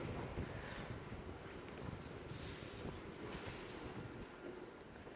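Steady, roaring strong swirling wind buffets the microphone throughout, with rushing gusts swelling and easing over a constant low rumble.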